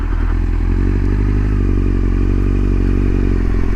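A Kawasaki Z1000 motorcycle being ridden at a steady, low road speed, its loud, constant engine drone and deep rumble filling the whole clip with no talking.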